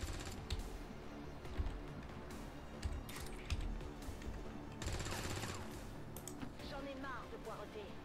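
Suppression gunfire in XCOM 2: faint, distant bursts of automatic fire pop over a low, steady game backdrop.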